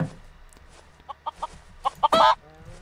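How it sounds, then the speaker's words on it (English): Chickens in the Minecraft video game cluck in several short, quick blips, ending in one louder, harsher squawk, close by and otherwise quiet. "Where are the chickens? I just heard them."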